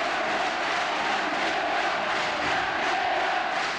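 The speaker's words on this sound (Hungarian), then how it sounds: "tombol a közönség" A basketball arena crowd roars continuously at a 1996 Hungarian championship final game between Körmend and Honvéd, a dense, loud, unbroken wash of cheering and shouting with no break.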